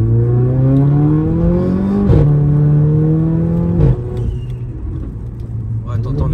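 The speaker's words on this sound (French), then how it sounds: "T'entends le petit bruit de la dump là?" Turbocharged car accelerating in rising gear pulls, the engine note climbing, then a short hissing dump-valve blow-off at each shift, close and loud from inside the car with people talking over it.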